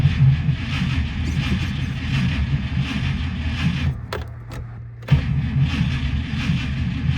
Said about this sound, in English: It's cranking real slow.